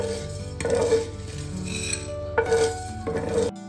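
Whole spices roasting in a pan over medium flame rattle and scrape with a utensil in three bursts of metallic clinking, close and clear with quiet gaps between.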